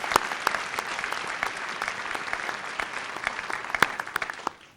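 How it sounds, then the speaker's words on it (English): A hall audience gives the Cuyahoga County Library a round of applause, with steady, dense clapping and a few sharp nearby claps that fade out at the end. "Could we get a round of applause for the Cuyahoga County Library?"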